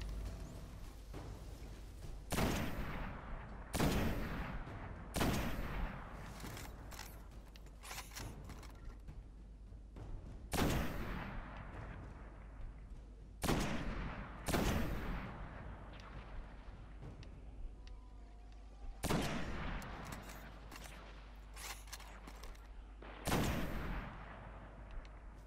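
Video game gunfire comes as sharp, booming shots spaced every few seconds, some in quick pairs, each standing out clearly over a low steady background rumble.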